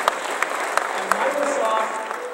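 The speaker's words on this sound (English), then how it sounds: "I would just like to give a round of applause" Applause from a large keynote audience at a Macworld event, steady clapping with a few sharper claps standing out near the start, fairly close and sustained over a couple of seconds.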